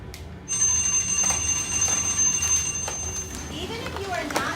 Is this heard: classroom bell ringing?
yes